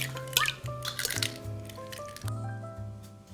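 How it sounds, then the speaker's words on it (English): Eggs drop into a bowl for a flourless chocolate cake batter, giving soft wet plops and squishy liquid sounds, close and quiet, over a faint tonal background. "Now add eggs in the bowl"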